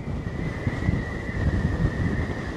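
Strong wind buffeting a microphone on the beach at Blackpool, a continuous low, rough rumble with gusty fluctuations and a faint steady tone behind it, no voices.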